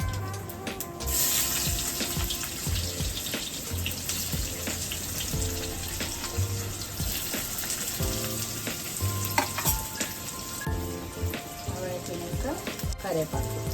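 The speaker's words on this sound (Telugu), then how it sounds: "ఎర్రగడ్డలు వేగినాయి" Onions frying and sizzling in hot oil in a pan for sabudana khichdi, a steady close crackle with occasional stirring scrapes and a faint hint of running water, with no talk.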